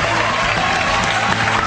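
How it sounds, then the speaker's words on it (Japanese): A concert crowd cheers and applauds loudly, giving a dense, continuous roar of clapping and shouting that stays at full strength throughout. "お客さん割れんばかりの歓声っていうのはこういうことを言うんだろうね"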